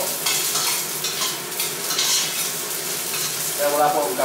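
Garlic sizzling as it browns in a pan for a misua and patola dinner, a continuous close crackling fry with stirring scrapes and a few louder spattering surges, no voices.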